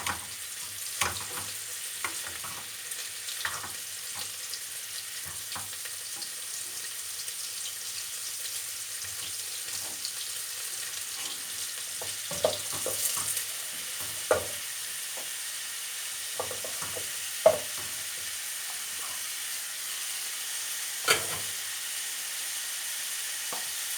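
Onions frying in a pan, a soft, steady sizzle close by, punctuated by occasional scraping and clinking from stirring.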